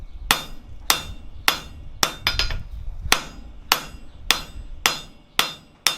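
Sharp hammer blows ring out on an anvil while a steel slitting punch is forged, about ten loud metallic strikes at an uneven pace with a quick flurry in the middle.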